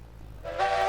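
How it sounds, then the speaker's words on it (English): A train whistle in the railroad video game Railroads Online sounds as a sudden steady tonal blast over a low rumbling engine, starting partway through and staying loud to the end. "Hit the whistle instead of the brake."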